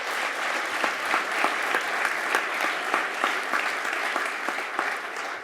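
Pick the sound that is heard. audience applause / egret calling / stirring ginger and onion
audience applause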